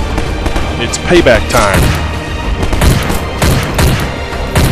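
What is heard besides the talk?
gunfire in Garry's Mod video game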